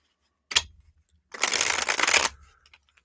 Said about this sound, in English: give it two little shuffles here.